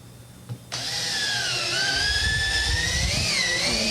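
A power drill bores screw holes into a wood piece for a European mount. After a faint tap, it spins up abruptly into a steady, loud, close whine that holds to the end.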